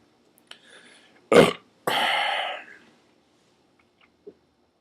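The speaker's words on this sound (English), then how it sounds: "Burp." After drinking Angry Orchard apple cider, a man lets out a short throaty burp, then a longer drawn-out one, both close and loud against near silence.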